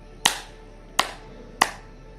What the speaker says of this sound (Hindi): तालियों की एक्सरसाइज आप कर सकते हैं उसके बाद।